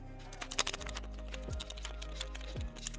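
Silver MX switches on a custom Decapre 4TW fightstick with colored keycaps are pressed in quick, light clicks, a scattered series of soft close taps with a low hum underneath.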